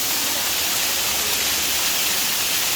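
Small waterfall in Ubud, Bali, producing a constant loud hiss of falling water, broadband and steady throughout, close by with no speech.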